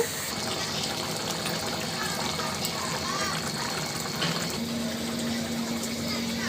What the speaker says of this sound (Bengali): সুন্দরভাবে ঝোলটা কিন্তু ফুটতে শুরু করেছে।